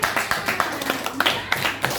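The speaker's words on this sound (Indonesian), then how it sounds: "Oke, tepuk tangan buat Fikri dalam bangku." A small group of fifth-grade schoolchildren claps for a classmate in an elementary classroom, with sharp, fairly close claps in a loose rhythm, a few voices murmuring underneath.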